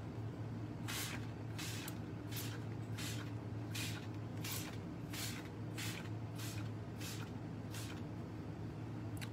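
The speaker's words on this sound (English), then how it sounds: "let's spray a little" A spray bottle mists water onto a coffee filter in about a dozen short, evenly spaced hissing squirts over a low steady background hum, with no talk.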